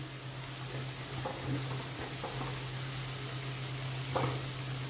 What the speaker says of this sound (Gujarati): લસણ બરાબર ચડે પછી જ બીજી સામગ્રી એડ કરવાની તો પહેલાં આપણે ફાસ્ટ ગેસ પર થોડી વાર રવા દઈશું